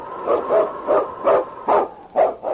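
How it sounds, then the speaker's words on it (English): A husky sled dog, the lead dog of the Yukon, barks repeatedly in an old radio drama, about six sharp close barks in a steady rhythm with no talk over them. "It's Yukon King, swiftest and strongest lead dog of the Northwest"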